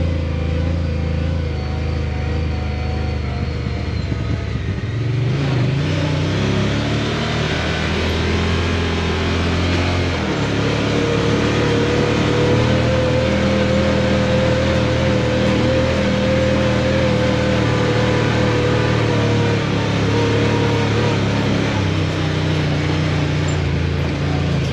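A Honda Talon X4 side-by-side drives along, its engine droning loud and close from the cabin, pitch shifting as it slows and picks up speed on a downhill stretch, with no one talking.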